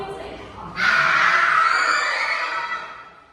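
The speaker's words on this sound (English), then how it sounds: "Scream as loud as you can." A crowd at a Bunong Alliance USA gathering screams as loud as it can, a sudden, sustained, shrill roar of many voices that swells and then slowly fades over a few seconds.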